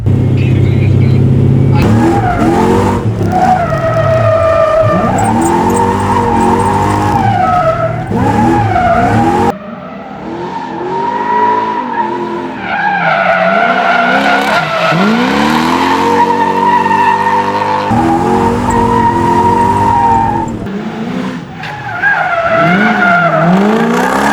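Nissan Skyline R32 being drifted, its engine revving hard in rising and falling pulls with tire squeal and skidding, loud and close throughout with brief dips, no talk.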